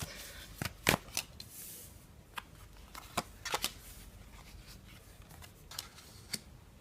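Tarot cards being shuffled and handled during a daily reading, faint papery flicks and snaps scattered irregularly over quiet background noise, with no voice.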